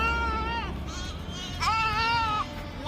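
Sheep grazing in a dense forest meadow in Kashmir give two clear, wavering bleats, one near the start and a louder one midway, over a low rumble of background noise.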